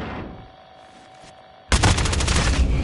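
A sudden loud burst of rapid automatic gunfire from a video game cuts in after a stretch of quiet background noise, sustained and close.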